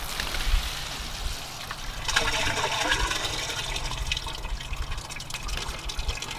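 Liquid waste from an RV black tank rushes through a sewer hose after the valve lever is pulled, a steady gurgling, splashing flow that swells partway through and continues close and loud.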